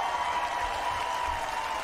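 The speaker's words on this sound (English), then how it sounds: "Then it just goes into straight up clapping after that." An audience claps after a song performance, a steady dense patter of applause heard faintly and evenly throughout.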